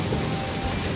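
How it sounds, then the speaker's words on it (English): Torrential rain from the tail of a hurricane pours steadily on an island, a dense, constant roar of downpour with no voices. "Unbelievable torrential rain."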